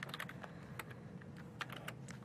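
Someone types on a computer keyboard while coding a full-stack web application, producing a steady patter of quiet, close keystrokes with no talking.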